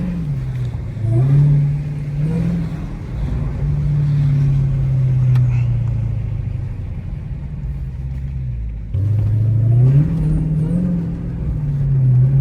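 A Dodge Hellcat's engine rumbles loudly and continuously while driving in snow, swelling in revs near the start and again after a brief dip toward the end.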